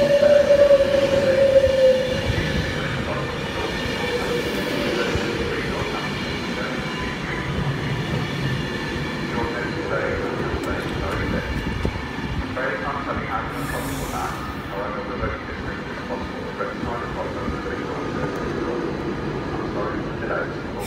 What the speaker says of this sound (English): class 390 Virgin West Coast service through to London Euston only